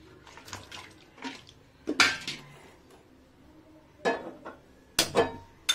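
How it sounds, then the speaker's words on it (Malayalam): Water is poured from a glass over chopped elephant yam in a cooking pot, giving a few splashy bursts mixed with clinks of metal and glass, close and intermittent. "നമുക്കിതിനെ ഒന്ന് വെള്ളത്തിലിട്ട് കുറച്ച് ഒരു ഗ്ലാസ് വെള്ളം ഒഴിച്ചിട്ട്"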